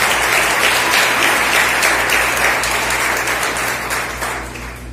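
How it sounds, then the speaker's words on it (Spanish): A church congregation at a worship service claps in sustained, dense applause under a low steady hum, gradually tapering off toward the end. "Bríndale un aplauso al Señor."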